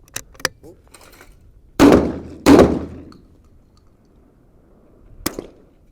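Two sharp, close reports from a Vudoo Gun Works V-22 rimfire rifle on an extreme-range rimfire shooting range, followed later by a fainter third crack, with soft clicks before and no talk.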